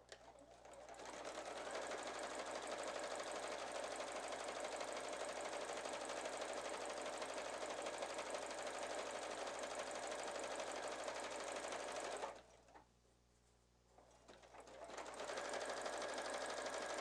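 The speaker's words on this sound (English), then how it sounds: "Just stitch straight down with that stretch stitch." Sewing machine running a stretch stitch straight down a seam of a girl's square-neck sundress, a steady continuous whirring buzz that stops briefly near the end and then resumes.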